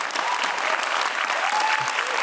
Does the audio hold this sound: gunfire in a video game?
no